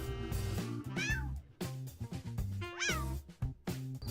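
A domestic cat meows twice, each call a clear, close, rising-and-falling cry. Low, tonal background sounds continue between the calls.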